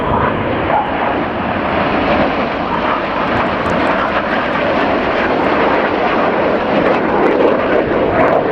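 Red Arrows jet aircraft fly a formation display, giving a sustained, loud roar of jet engines that fills the air without a break.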